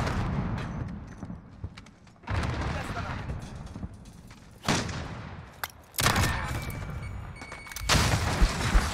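Bursts of gunfire from a Search and Destroy video game match come in several loud cracks and booms, separated by quieter gaps, while players talk over the action.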